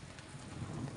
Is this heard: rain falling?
yes